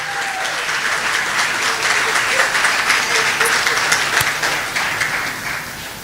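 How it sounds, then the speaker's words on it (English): An audience applauds steadily for a woman walking in at an event in Lekki, a dense, even clapping that holds for about six seconds before easing slightly at the end. "Please give her a round of applause."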